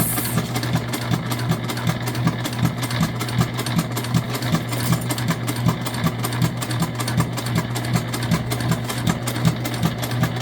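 A sewing machine stitches a bag in a steady, rapid mechanical chatter with a low motor hum, running continuously and close by with no talk over it.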